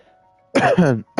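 A single harsh, throaty cough-like clearing of the throat, loud and close, lasting about half a second, followed by the start of another.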